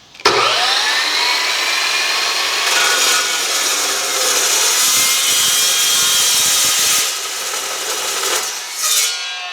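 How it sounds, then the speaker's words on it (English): A cold cut saw slicing through a piece of steel, a loud sustained high-pitched whirring grind that starts abruptly, runs steadily for about seven seconds, then winds down with a short final surge. "First, we'll cut this with the cold cut saw."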